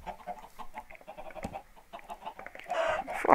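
Chickens cluck in a Minecraft game, a string of short game-animal clucks repeating at moderate volume, growing louder and busier near the end.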